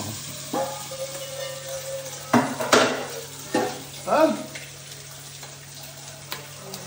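Rice is stir-fried in a pan at home with a soft, steady sizzle, broken by several scraping clatters of a spatula against the metal, close and moderate in level, with no talk.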